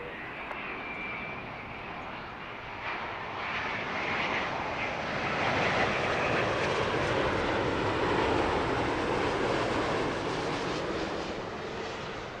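An airliner lands at Heathrow, its engine roar swelling steadily and holding loud across the runway, a broad continuous rush heard from some distance without speech.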